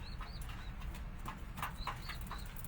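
Racing pigeons in a loft, one of them sick, give off faint, short high calls and soft flutters over a quiet, steady background.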